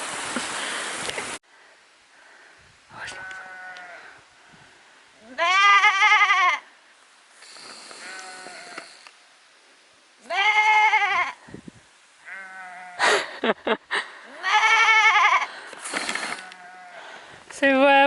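A person imitates sheep with several loud, wavering bleats of varying length, separated by short quiet gaps, with no other voices.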